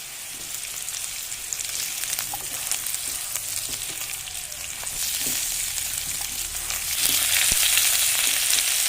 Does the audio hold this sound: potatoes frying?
yes